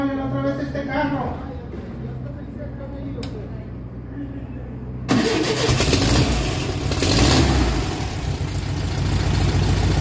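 A car engine cranks and catches on the first try, then settles into a loud, steady idle, with people talking nearby throughout.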